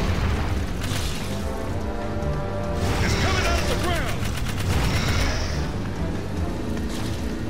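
Gunfire at metal pieces inside a cave in the video game Jak 3, heavy booming shots and bursts over a dense low rumble, with a person talking throughout.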